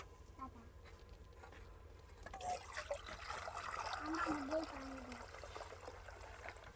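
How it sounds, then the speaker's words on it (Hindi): Water is poured for making dough in a mud house kitchen, a soft trickling and splashing that swells after a quiet start and continues steadily, with a voice talking over it. "मैं यहाँ पे आटा के लिए पानी ले रही हूँ।"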